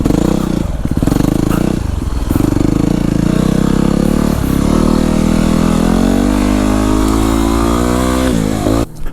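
A Yamaha WR250R dirt bike rides a single-track trail with wood and mud, its engine droning loud and close throughout, pitch rising and falling as the rider works the throttle, with no talking.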